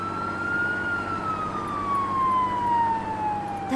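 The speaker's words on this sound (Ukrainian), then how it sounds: "Точно, вімкнемо сирену." A single fire engine siren tone slides slowly downward in pitch over a steady low vehicle rumble, moderately loud and continuous.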